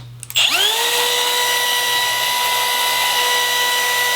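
A click, then a Milwaukee M18 Fuel cordless compact router's motor spins up and holds a loud, steady high-pitched whine close by.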